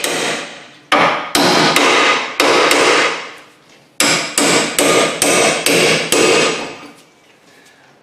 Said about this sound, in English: give it a smack on that bottom ball joint